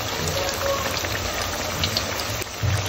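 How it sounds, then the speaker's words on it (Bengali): Sweet potato pakoras coated in gram flour deep fry in oil, making a dense, even crackle like rain that stays loud and close for the whole stretch. "ডুবো তেলের মধ্যে ভাজতেছি আমরা"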